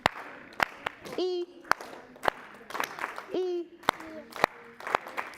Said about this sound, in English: We're going to do 4 claps.